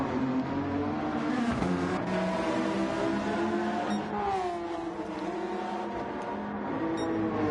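Race car engine from a racing game at the Alsace circuit, revving loud and close with rising and falling pitch as gears shift, the tone sweeping steadily throughout without voices.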